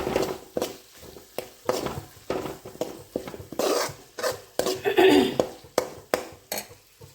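A utensil stirs cooked rice into softened tomatoes in a pan, producing close, rhythmic scrapes and soft clatters, with faint sizzling underneath.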